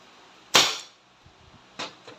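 A Crosman SNR 357 airgun revolver fires once in a sharp, loud crack, followed about a second later by a second, softer report or mechanical snap, with short quiet gaps between.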